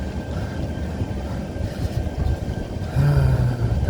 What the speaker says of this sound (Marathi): आणि ट्रेन झाली स्लो